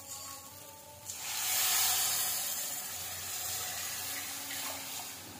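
Kat liquid is poured into hot oil tempering for kataachi aamti, and after a quiet second a loud hissing sizzle surges up, then settles into a steady, softer fizz.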